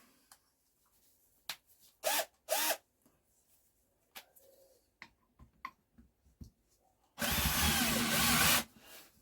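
Valves are lapped into a Douglas engine cylinder head with coarse grinding compound: short whirring bursts, scattered clicks and taps, then a longer rasping spin near the end.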